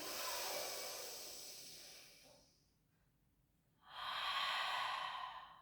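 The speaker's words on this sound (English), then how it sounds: "in through the nose, out through the mouth. Last one, breath in." A person takes a slow, deep breath during a gentle Pilates and barre session, a long airy exhale followed by a pause, then a strong inhale, heard close and alone.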